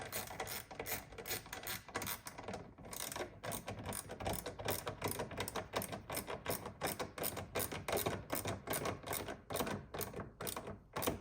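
A ratcheting tool tightens screws on a Tesla Model Y or Model 3 taillight, giving rapid close mechanical clicks in quick repeated bursts with short pauses between turns.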